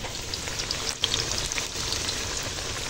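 Ghee is brushed over prawn, egg and vegetable fried rice cooking in a village-style setting, producing a dense, continuous sizzle and crackle that stays close and even throughout, with no voices.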